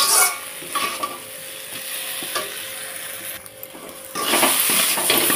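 A pan of taro and egg curry sizzles as it is stirred with scraping strokes, then a louder burst of hissing rises when water is added.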